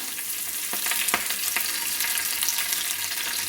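Mustard seeds and fenugreek fry in hot coconut oil for pineapple pulissery, giving a steady close-up sizzle with a few sharp crackling pops as the seeds burst and no voices.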